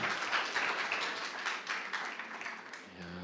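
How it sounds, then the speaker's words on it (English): Audience at a startup pitch battle applauding the pitch team SoFinX, dense sustained clapping from a room of people that fades slightly before a voice starts at the end. "A round of applause for SoFinX"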